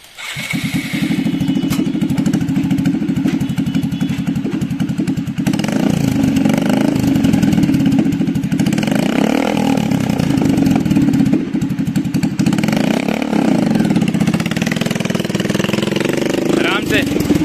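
A motorbike engine in the video game BGMI runs continuously, loud and rough, revving and shifting through the clip while people talk over it.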